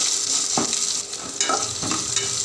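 Dried red chillies and green chillies dropped into hot oil, giving a loud, steady sizzle with a few stirring scrapes of a spoon against the pan, with no voices.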